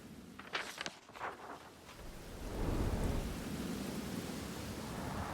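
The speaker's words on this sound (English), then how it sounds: "driving home through a storm that seemed hell-bent on drowning the whole South" Thunder rumbles in the Southern storm scene of the video game South of Midnight, with a couple of sharp cracks early on before a steady, heavy downpour of rain settles in and continues alone.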